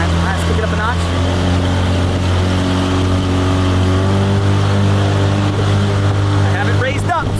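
A 1989 Yamaha Mariner 30hp outboard motor runs at speed on a boat, a loud, steady, close engine drone that holds without a break, with a brief voice near the start and end.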